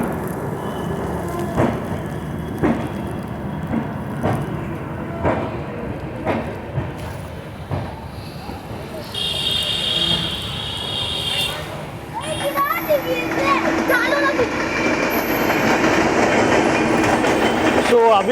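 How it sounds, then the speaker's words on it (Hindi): Kolkata Guwahati Garib Rath Express on the move after departure from Kolkata, with rhythmic wheel clatter and rumble building steadily louder, a few higher squeals later on and voices in the background. "कोलकाता गुवाहाटी गरीब रथ एक्सप्रेस का डिपार्चर हुआ है"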